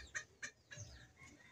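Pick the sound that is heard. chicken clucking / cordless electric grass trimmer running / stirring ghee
chicken clucking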